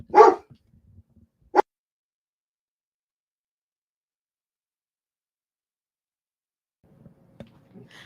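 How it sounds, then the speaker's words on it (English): A pet dog gives one loud bark at close range, then a second short sharp bark a moment later, followed by long quiet and faint indoor rustling. "That was my dog."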